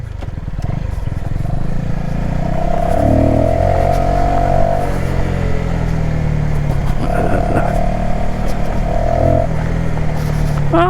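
Voge 125 R motorcycle with a small 125 cc engine, ridden and given short blips of throttle, a steady near engine drone rising in pitch with each rev over road and wind noise.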